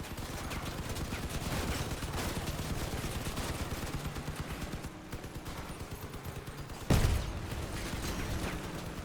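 Continuous rapid vehicle-mounted gunfire in the Crossout combat game, a steady rattling stream of shots with a brief lull and one sharp, louder blast near the end.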